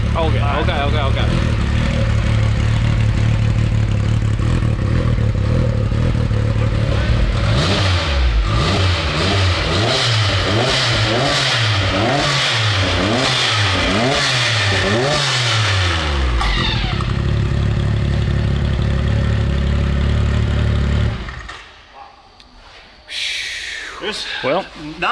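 A turbocharged Can-Am Maverick X3 engine running loud and close, its steady drone broken by a long series of throttle blips and revs before it drops back to a quieter idle near the end.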